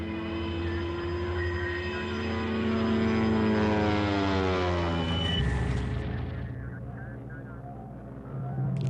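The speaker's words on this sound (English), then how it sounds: "German bombers were leveling cities." German bombers fly over Poland in September 1939, a loud, sustained propeller-engine drone with a rising and falling pitch as the aircraft pass close overhead, then the roar cuts to a lower rumble near the end.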